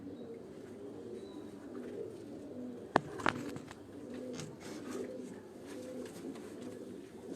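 Breeder pigeons, golden and galodu types, coo softly on a rooftop loft. Low, continuous murmuring is broken by a couple of brief sharp clicks.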